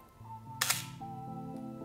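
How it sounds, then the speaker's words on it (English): Lomo Lubitel 166U twin-lens reflex camera firing its shutter at 1/30 second: one crisp, close mechanical clack, briefly ringing, preceded and followed by a low sustained hum in a quiet room. "you hear the little clockwork clack of the Lubitel"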